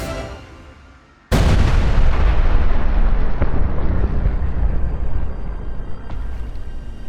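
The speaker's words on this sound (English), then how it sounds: "one hits Bismarck directly on her rudder" A torpedo explodes against the rudder of the battleship Bismarck, a sudden massive boom after a brief quiet lead-in, followed by a long loud rumbling roar that slowly fades.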